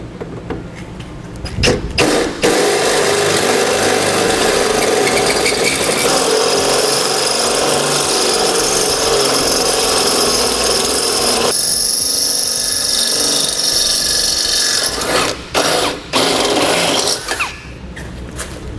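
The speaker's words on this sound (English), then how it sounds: "Now we'll take a 9/16 drill bit and drill out the weld nut" A drill with a 9/16 bit grinds through a weld nut on a Ford Fiesta frame rail, a loud, sustained rasping whine that runs unbroken for many seconds, with brief starts and stops near the beginning and end.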